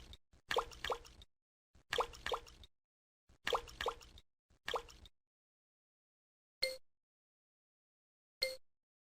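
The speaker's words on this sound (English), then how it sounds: "Filter the impurities from the solution." Impure copper sulfate solution filtered in a lab setting, with a quick cluster of liquid plops and drips followed by two isolated single drops after long quiet gaps, faint and close.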